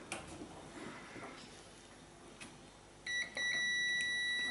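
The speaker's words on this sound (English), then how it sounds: "I'll put it onto continuity and it beeps." A quiet room hum, then a sudden steady electronic beep from a multimeter on continuity test kicks in and holds, clear and close, with a brief click just before it, checking an arc stick welder cable.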